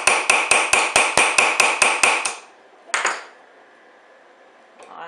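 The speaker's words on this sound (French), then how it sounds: "la tête de rivet dans la boutterole, ma main sur la monture pour pas qu'elle bouge comme ça ou comme ça, et je vais venir frapper" A hammer strikes a rivet head held in a rivet set while fitting hinges: about ten quick, evenly spaced metallic taps, then a pause and one more ringing blow, close and loud.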